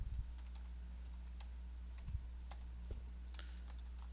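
Quiet computer keyboard typing while writing a VBA do until loop, with scattered clusters of soft key clicks and short pauses in between, no voices.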